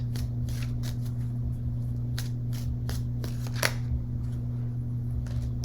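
Tarot cards being shuffled by hand, a series of quick close riffling flutters and soft snaps over a low steady background hum.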